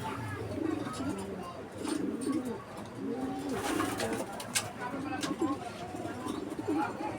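Repeated soft, low cooing of racing pigeons, steady and close, with a few sharper rustles and clicks in the background.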